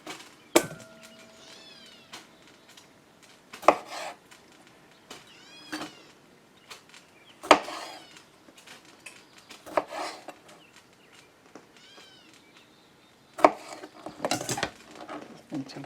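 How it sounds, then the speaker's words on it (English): Grape tomatoes sliced in half with a knife on a wooden board: sporadic sharp cutting taps and thuds, close by, with a cat meowing repeatedly between and over the cuts. "So all I'm going to do here is slice these in half and get them into the bowl."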